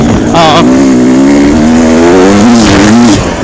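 A motorcycle on a rural Missouri trail property gives a loud, close engine note that rises and wavers briefly as it revs.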